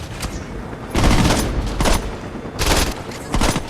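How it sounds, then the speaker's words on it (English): Saints Row 2 video-game gunfire roars close and loud in steady automatic bursts. Bursts rise and ease over a few seconds, with heavier thumps mixed in. "you're shooting at FBI SUVs filled with Masako, who happen to be carrying guns that cost more than my house"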